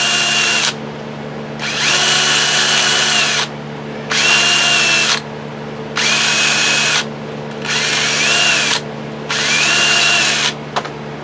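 A handheld power drill cleaning up a hydroponic rail whirs in five separate high-pitched bursts of about one to two seconds each, with short pauses between them and a low steady hum underneath.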